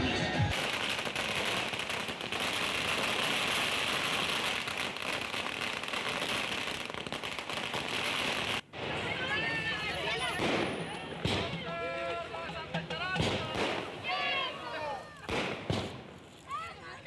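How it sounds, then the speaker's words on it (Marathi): Dense continuous crackling of firecrackers going off in a long burst at an Ambedkar Jayanti celebration, followed by a crowd shouting and cheering with more scattered bangs. "भीम अनुयायांनी फटाक्यांची आतिषबाजी करत हा जयंतीचा जल्लोष साजरा केला"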